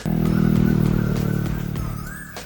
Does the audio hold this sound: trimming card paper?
no